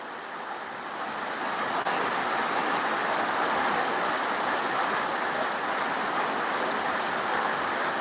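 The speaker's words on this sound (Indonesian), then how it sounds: "Ini sepertinya hujan akan lama karena sudah mulai gelap." Steady rain pours down as darkness falls, a dense, even wash of hiss that swells in the first second and then holds constant and fairly loud, with no voices over it.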